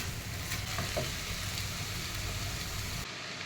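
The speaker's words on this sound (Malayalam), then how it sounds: "ഈ വെള്ളം വറ്റി വരട്ടെ ഒന്ന് ഇളക്കിയിട്ട് കൊടുത്താൽ മതിയേ" Bottle gourd thoran is stirred in a pan while its water cooks off, giving a dense, steady sizzle that runs close and loud before dropping off abruptly near the end.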